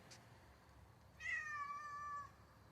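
A pet cat named Bear gives one clear, drawn-out meow, preceded by a faint short chirp, close by in a quiet space near a shed.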